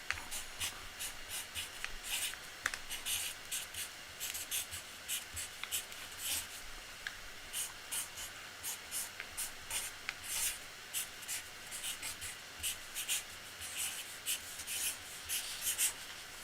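Pen or pencil writing out a long word by hand across two lines, a steady run of close scratching and rubbing strokes with short pauses between them, no talking.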